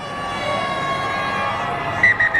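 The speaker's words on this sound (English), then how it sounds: "Full time, the siren sounds." Full-time siren at a 2002 rugby league match between the Northern Eagles and Penrith Panthers, a steady sustained tone over stadium crowd noise, with a few louder pulsing blasts near the end.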